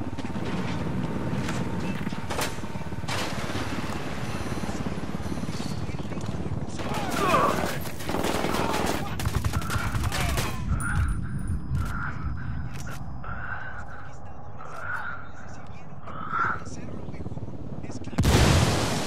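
Gunfire in Ghost Recon Wildlands: a heavy, dense barrage of shots and blasts gives way to a run of evenly spaced single reports, ending with a loud burst, with voices present.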